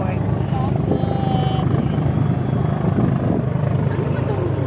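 A helicopter passes overhead near an airport while people paddle a boat, its steady rotor drone loud and continuous throughout, with voices talking faintly over it.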